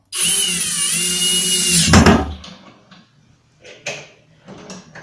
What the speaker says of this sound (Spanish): vas a meter tus tornillos de manera perpendicular, lo más derechito que puedas